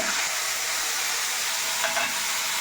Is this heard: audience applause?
no